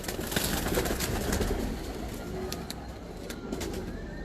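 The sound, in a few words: Heeno pigeons cooing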